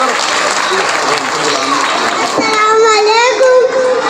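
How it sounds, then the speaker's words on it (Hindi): Applause and cheering from an audience at a junior kindergarten school performance, a broad steady wash of clapping with children's voices rising over it toward the end. "इनकी भी हौसला अफजाई जोरदार तालियों से की जाए।"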